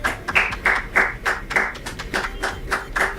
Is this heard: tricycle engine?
no